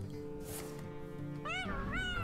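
A pet cat meows twice in close succession, rising, drawn-out cries heard up close over a low steady background hum.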